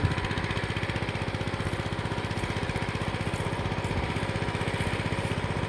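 A tractor engine ploughing a rice field throbs with a steady, rapid, loud mechanical pulse that runs unbroken from start to finish, with no voices over it.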